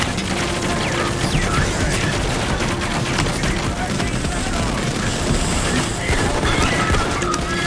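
Dense, continuous gunfire in the video game Payday 2, including shots aimed at a turret, rattles loud and unbroken throughout, with a player talking over it.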